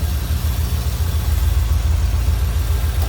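A 1989 Chevrolet Corvette convertible's 5.7 liter V8 idles steadily with a low, even, rhythmic burble heard up close, with no voices.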